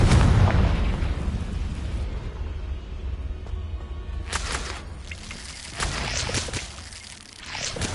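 Hogwarts Legacy on PS5: the Confringo fire spell goes off with a deep, loud booming burst at the start, then fades into rumbling debris and several sharper crackling hits.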